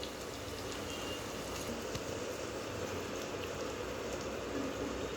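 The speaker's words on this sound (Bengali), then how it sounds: "ভালো করে ভেজে নেব রসুনটা। পেঁয়াজ দেওয়া হচ্ছে।" Garlic and onion fry in hot oil, a steady close crackle and sizzle like rain that holds at a soft level throughout.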